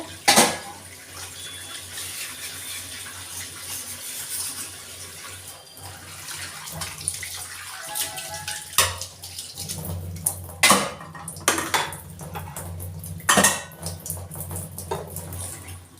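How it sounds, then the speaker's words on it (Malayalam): Running water splashes in a sink while dishes clink and knock against each other, with a few sharp clatters near the end. "പാത്രമൊക്കെ കഴുകി കഴിഞ്ഞു"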